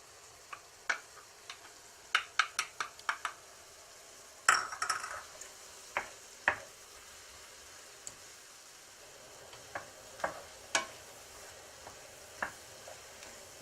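Finely diced jalapeño peppers fry in about two tablespoons of oil in a pan over high heat, giving a faint, steady sizzle broken by scattered utensil clicks and scrapes against the pan.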